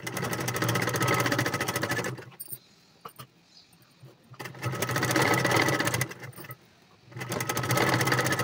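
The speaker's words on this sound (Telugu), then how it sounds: "దీనిని ఈ విధంగా ఫోల్డ్ చేసుకొని ఒక లూజ్ కుట్టు వేసుకోవాలి." A sewing machine stitches a boat neck blouse in steady close bursts, running about two seconds, pausing briefly, then running twice more with short gaps between.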